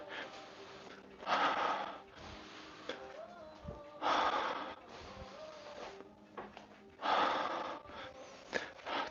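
Heavy, forceful exhaling breaths come in bursts about every three seconds during a home HIIT workout, close and loud, with quieter movement noises between them.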